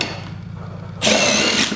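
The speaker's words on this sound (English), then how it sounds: "This is the main puller bolt. This threads on. We're going to use our impact." An impact wrench spinning a flywheel puller bolt on a Polaris XLT 600 triple snowmobile engine, a short loud burst of whirring and hammering that starts abruptly after a quiet moment and runs briefly, close up.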